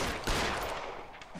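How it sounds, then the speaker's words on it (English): Gunfire during a shootout in a theater in the video game LA Noire, a few fairly distant, echoing shots over a busy ambient background. "you're firing from across the theater"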